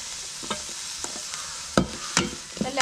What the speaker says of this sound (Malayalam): എല്ലാം കൂടി നന്നായിട്ടൊന്ന് വഴറ്റിയെടുക്കാം.